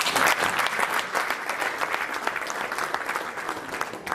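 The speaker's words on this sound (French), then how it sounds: "Applaudissez s'il vous plaît" An audience applauds at the inauguration ceremony of the African Volleyball Confederation's new headquarters, dense steady clapping from a sizeable crowd that stays loud throughout.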